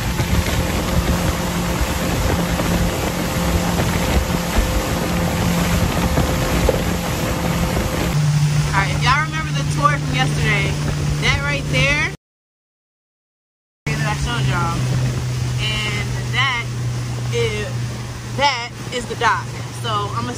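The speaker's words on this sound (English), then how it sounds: "I docked the boat, you guys" A motorboat engine hums steadily while the boat is driven and brought in to dock, with wind buffeting the microphone and the engine note dropping after a brief cut. Someone speaks over it.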